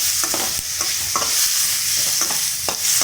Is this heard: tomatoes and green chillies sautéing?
yes